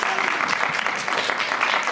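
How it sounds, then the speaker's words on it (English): Audience at a forum on education and climate action claps to welcome a panel, a short burst of moderately loud, steady applause from a roomful of people. "Can we give them a round of applause and welcome them?"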